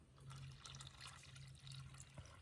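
Water poured into a glass of Bacardi mixed with nannari sarbath outdoors in a village, a soft continuous pouring trickle, faint and close.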